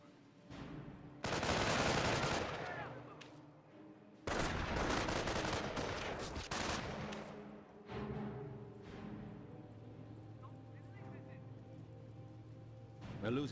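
Bursts of 30 cal machine gun and rifle fire crackle in the World War II strategy game Company of Heroes, with two long, dense loud volleys followed by scattered quieter shots while a commentator talks.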